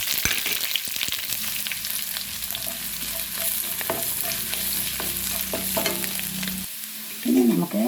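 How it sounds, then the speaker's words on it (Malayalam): Ginger, garlic and mustard seeds fry in oil with curry leaves in a pan for a chicken curry. A strong, continuous close sizzle is broken by stirring scrapes and spitting pops, with a brief clatter near the end. "ഇനി നമുക്ക് ഇഞ്ചിയും വെളുത്തുള്ളിയും കുറച്ച് കടുക് ചേർത്ത് കൊടുക്കാം."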